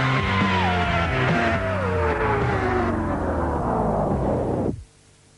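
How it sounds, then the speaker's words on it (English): A modified 1997 Vauxhall Vectra V6 with a new camshaft and new engine management revs loud and close, its rasping engine note climbing and shifting steadily before cutting off abruptly near the end. "It may be a stock Vauxhall V6 under the bonnet, but it has a new camshaft and a new engine management system."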